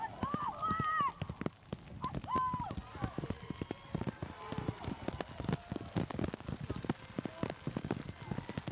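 Rain falls on a soccer field during a girls' under-15 match, a steady patter of close drops with some louder irregular taps, while a commentator talks over it.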